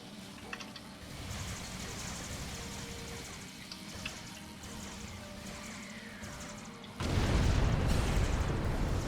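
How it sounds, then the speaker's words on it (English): A loud burst of rumbling explosion noise in Star Trek Online erupts near the end, following a stretch of steady low crackling and hiss typical of game action. "Ooh, that was an explosion."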